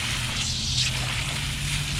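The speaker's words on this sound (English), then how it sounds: "Here to rinse out another tie-dye." Water runs steadily over a tie-dyed shirt being rinsed out, a continuous close hiss and splash with a low hum underneath.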